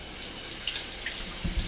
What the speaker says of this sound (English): now I'm going to rinse the bones in cold water